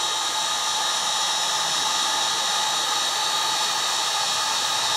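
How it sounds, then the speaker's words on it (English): A heat gun runs steadily, its broadband hot-air hiss rushing at a constant level for several seconds while being used to shrink heat-shrink tubing over soldered electrical wiring. "Take a second for this heat gun to warm up."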